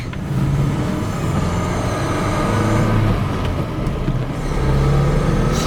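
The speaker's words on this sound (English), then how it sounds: "It's just a fun truck to drive." A 1984 Nissan Datsun 720 five-speed pickup with a Weber carburetor cruises a 50 mph road in light after-school traffic, its steady engine and road rumble droning continuously from inside the cab with no talk.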